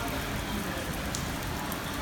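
Steady rain falls outside a shop, a dense, even hiss with no distinct drops standing out, heard alone at moderate level throughout.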